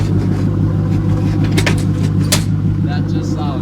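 A Mercedes SL500 engine idles with a steady, deep rumble up close, while people talk over it and keys jangle briefly.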